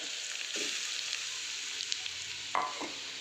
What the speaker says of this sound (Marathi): आता आपण आपला मुळा ह्याच्यात टाकून घेऊया